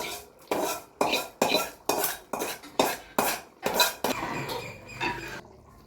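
A metal spoon stirs fried shallots, cardamom, cloves and cinnamon into chicken kurma in a pot, knocking against the sides in about eight loud, regular strokes, then scraping more softly at the end.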